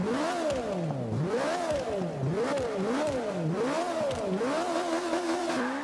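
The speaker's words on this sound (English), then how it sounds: "so yeah, I'll let you hear it." An Ariel Atom V8 in the Forza 5 racing game revs hard and close, its engine note repeatedly climbing and dropping in steady waves through a continuous, loud stretch with no voices.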